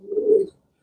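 A young pigeon at a breeding loft gives a single short, soft, low coo close by, followed by a brief pause and the start of another.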